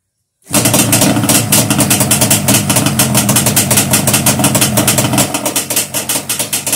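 A cold Yamaha Banshee two-stroke engine kicks over on the first try after silence, then runs loud and close with a rapid, raspy idle pulse that steadies toward the end.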